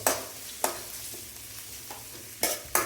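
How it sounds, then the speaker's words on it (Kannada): Chopped large onion fries in oil in a pan for a Kannada pumpkin bassaru, with a steady background sizzle and several sharp spatula scrapes at irregular intervals. "ದೊಡ್ಡ ಈರುಳ್ಳಿ ಕಟ್ ಮಾಡಿ ಹಾಕ್ಕೊಂಡಿದ್ದೀವಿ"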